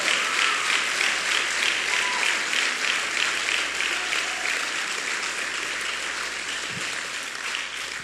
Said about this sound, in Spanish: dale aplauso al Señor fuerte